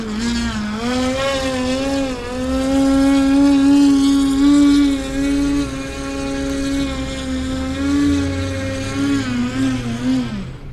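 An FMS electric RC plane motor holds a steady whirring whine as the plane hovers, droning continuously and fairly loud throughout with a slight rise and dip in pitch, no talk.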